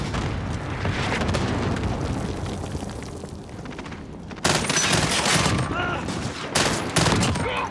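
Video game battle with an allied cluster strike: dense rolling explosions and rapid gunfire rumble continuously, then two sharper, louder bursts of blasts land near the end.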